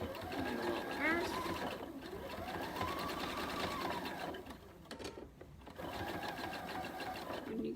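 A sewing machine stitches a pillow seam in a sweatshirt and placemat, its rapid needle chatter running near continuously with a short pause and a brief reverse, close and clear.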